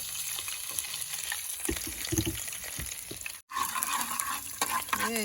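Garlic sizzles and crackles in hot oil as a utensil stirs and scrapes the pan, with a brief cut partway through.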